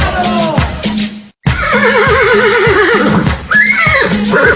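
Loud horse neighs and whinnies, with a wavering, rippling pitch, fill the clip, broken by a short silent gap before a second long whinny and further calls.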